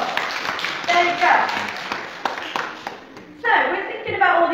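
A church congregation at an all-age Holy Communion service claps in a scattered round of applause, uneven bursts of hand claps rising and fading, with voices talking over it.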